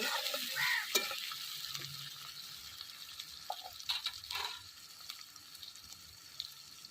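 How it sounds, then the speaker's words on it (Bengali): Fish frying in a pan while being stirred, sizzling strongest at the start and easing off, with scraping stir sounds and a few clinks, close and moderately loud with no talking. "মাছটা দিয়ে একটু আমি নাড়াচাড়া করে নিলাম তখন ভালো করে ভাজবো"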